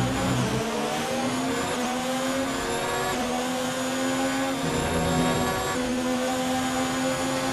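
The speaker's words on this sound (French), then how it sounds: "Mais regardez, son moteur Honda est tellement rapide, on ne peut rien faire" Honda-engined Formula 1 car in the racing game F1 2019, a loud, steady high-pitched engine whine held close throughout with slight pitch shifts as it shifts gears, alone with no voices.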